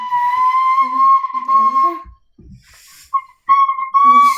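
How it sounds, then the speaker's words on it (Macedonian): A high, thin whistling tone fills a quiet room, held steadily for about two seconds. After a short silence with faint knocks, it returns in shorter wavering bursts. "Шо е ова свирење, ова преска свири?"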